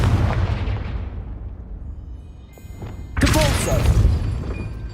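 Confringo blasting spell in Hogwarts Legacy: a booming explosion decays over two seconds, followed by a second loud, crackling blast with debris.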